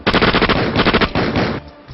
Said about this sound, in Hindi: नमाजियों पर गोलियों की बौछार कर दी